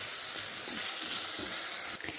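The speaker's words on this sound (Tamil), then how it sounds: "இதை நல்லா வதக்கிக்கலாம் இதோட சேர்த்து." Tomato sautéing in a pan with cinnamon and clove for a mutton liver and fat soup, a steady close sizzle and fry with faint stirring scrapes, no talking.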